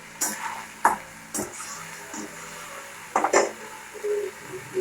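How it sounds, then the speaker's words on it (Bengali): Meat is stirred and browned in a pan, with irregular metallic scrapes and clanks of the utensil against the pan over a low background hiss, and no talking. "মাংসটা আমরা কষিয়ে নেবো ভালো করে"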